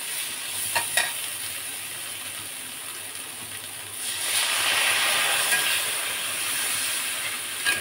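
Hot water poured into frying spices for a thin singi fish curry sets off a sudden louder hiss and sizzle midway, following softer frying and a couple of stirring knocks.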